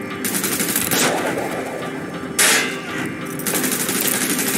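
Gunfire in the video game Call of Duty Black Ops: loud, rapid automatic bursts rattle almost nonstop, with a few heavier blasts standing out among them.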